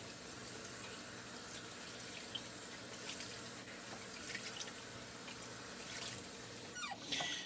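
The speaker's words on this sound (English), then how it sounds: "So let me wash the leaves off." Tap water runs steadily into a kitchen sink while curry leaves are rinsed under it, a soft even splashing rush with small squeaks and drips near the end, with no talking.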